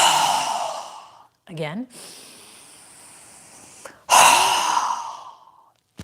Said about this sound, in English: exhale with a strong breath through our mouth